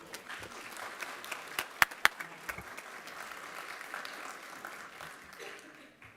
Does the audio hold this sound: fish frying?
no